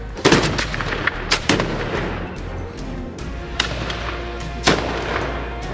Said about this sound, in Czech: Ke střelbě připravit!